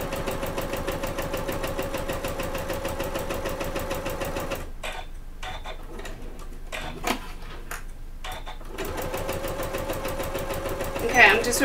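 An Elna 780 Plus sewing machine stitches fabric with a fast, steady motor hum, stops for a few seconds of quieter handling clicks, then runs again near and loud.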